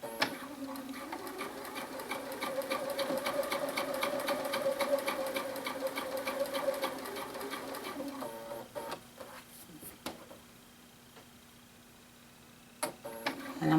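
A sewing machine stitches around the neckband of a knit tee in a fast, even run of needle clatter for about eight seconds, then stops, leaving a faint hum and a few brief taps and clicks.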